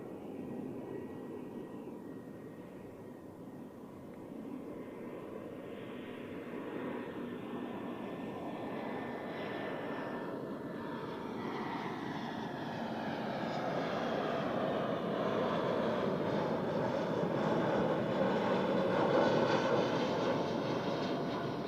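An airliner in special livery taxis at Zurich Airport, its jet engines producing a steady, fairly distant whine and rumble that swells gradually louder as the aircraft approaches, heard alone without voices.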